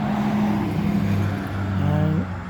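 Car traffic passes by outside a backyard as a steady, fairly loud wash of engine and road noise, with one vehicle swelling and fading near the end and no talk over it.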